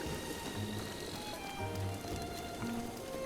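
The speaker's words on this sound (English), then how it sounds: "It is raining a little." Light rain falls in Zelda Breath of the Wild, a soft continuous patter on surfaces, faint and steady, with quiet game ambience underneath.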